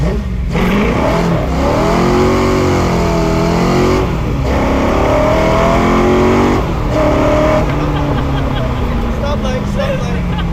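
A restored Ford GT40 engine with ITV induction growls loudly from inside the car while driving, revving up and down through gear changes, with people talking over it.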